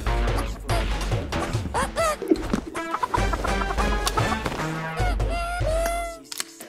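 A video game inventory item gives off loud, repeated chicken clucks and squawks in quick, uneven bursts, mixed with crashing clatter, close and prominent throughout.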